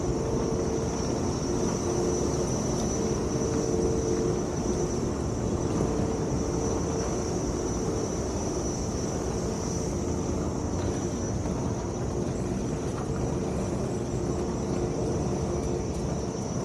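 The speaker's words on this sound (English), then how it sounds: "You're not focusing on the plane that's just flying overhead." Airplane flying overhead while someone roller blades outdoors, a steady broadband engine drone that holds at even loudness throughout, no voices.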